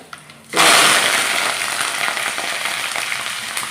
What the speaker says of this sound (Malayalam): കടുക് നന്നായിട്ട് പൊട്ടുന്നുണ്ട് അപ്പോൾ നമുക്ക് അതിനകത്തേക്ക് കറിവേപ്പില ഇട്ട് കൊടുക്കാം